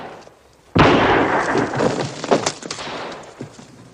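A cannon fired by a soldier at a 19th-century fort blasts out in one sudden loud report, then a long rumbling decay with scattered crackles trailing off.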